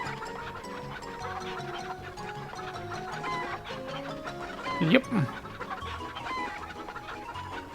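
Chickens cluck in the video game Breath of Fire IV, with soft, repeated clucks over quiet game music and one louder squawk near the middle, and a voice speaks briefly.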